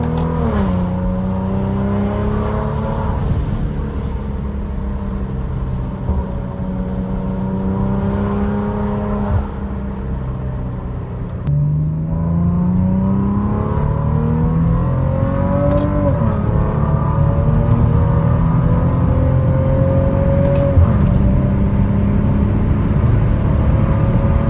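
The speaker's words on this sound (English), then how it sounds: "the exhaust note is one of the best out there," A Maserati Ghibli S Q4 engine revs and pulls through several gears, its exhaust growling with rising and falling pitch, loud and close throughout.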